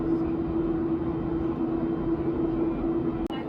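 Steady drone of a Malaysia Airlines Boeing 737-8 cabin in flight over Da Nang, a constant engine rumble with a sustained low hum, ending in a brief click.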